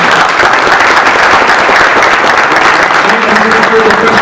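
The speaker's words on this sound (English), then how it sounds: "Let's have a quick round of applause for our panelists" A conference audience applauding panelists after a workspace discussion at InfoComm, steady loud clapping filling the room without pause, with a faint voice surfacing briefly near the end.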